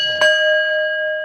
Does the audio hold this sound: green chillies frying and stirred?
no